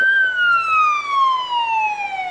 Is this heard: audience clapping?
no